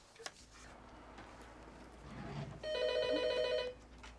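An indoor telephone starts ringing after a quiet room, a single clear electronic ring burst of about a second, moderately loud and close.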